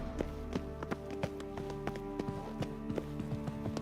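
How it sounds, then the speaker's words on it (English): Footsteps in The Witcher 3, set in occupied Novigrad: a steady run of crisp, evenly spaced steps with a hard clip-clop character over a constant tonal game music bed. "Footsteps."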